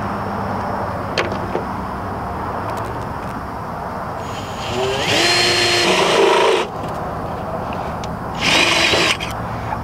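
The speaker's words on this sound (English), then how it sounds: "I want to go through with this drill and just clean up the hole" A power drill whirs in short bursts, cleaning up a hole in a billboard sign mount, two louder spells of high-pitched spinning amid quieter handling noise and a faint background hum.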